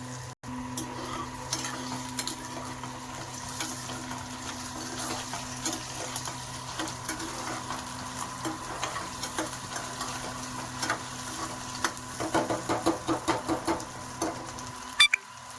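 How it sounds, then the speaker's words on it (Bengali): Potatoes frying in a pan give a faint, steady sizzle throughout, with quicker stirring and scraping strokes building near the end, and no speech. "আগে আলুগুলো ভেজে রাখি দেবো।"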